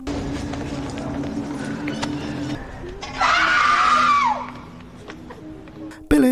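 A woman in a horror film about train passengers struck by black magic screams for help, a loud sustained wailing cry rising and falling for about a second, over a bustling busy background with footsteps and murmur.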